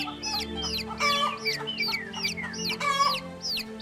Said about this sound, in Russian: Так, курочки тут с цыплятами.